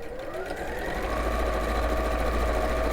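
Sewing machine with a standard foot stitching evenly along fabric piping, a steady fast motor whir and rapid needle rhythm, close and continuous with no talk.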